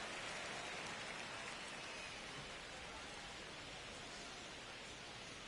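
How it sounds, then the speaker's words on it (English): Steady, dense rain hisses evenly throughout, close and continuous, with no voices over it. "It's so damn rainy."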